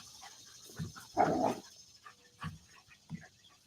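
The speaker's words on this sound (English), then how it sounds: "As my dogs are having the zoomies behind me." Dogs with the zoomies bark, pant and scuffle behind a seated person, a few short barks and whines spaced out over a few seconds at moderate distance.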